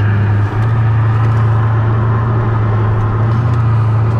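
Steady interior hum of a car driving through Istanbul traffic, with a constant low engine drone and road rumble throughout, loud and close.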